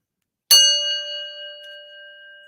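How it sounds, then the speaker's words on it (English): A single bell struck once, ringing out with a bright metallic onset and a long, slowly decaying ring of clear overtones, alone with no talk. "let me ring the bell again"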